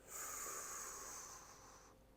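Deep lateral breathing into the sides and back of the ribs during a posture exercise: a single soft, close, airy inhale lasting about two seconds, with no talking.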